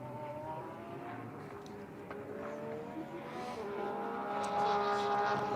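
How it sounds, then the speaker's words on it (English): A BMW GT race car in qualifying at the Indy 8 Hour, its engine drone heard from a distance and steadily growing louder as it passes the line, with no talk over it. "his BMW crosses the stripe"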